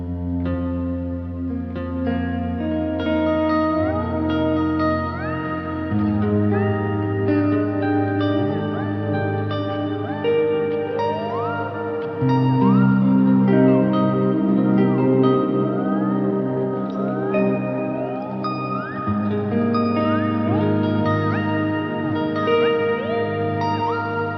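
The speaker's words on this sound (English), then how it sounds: "the reverse grain sound, some microcosm into the delay, and that will sound like this." An electric guitar runs through a pedalboard with a Microcosm's reverse grain setting feeding a delay, producing swelling, backward-rising notes layered in a dense, echoing ambient wash that sustains steadily throughout with no talk.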